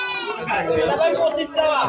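Goats bleat in short wavering cries amid a busy livestock market crowd, with people talking nearby throughout.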